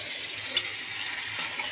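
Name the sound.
water being poured into a cooking pot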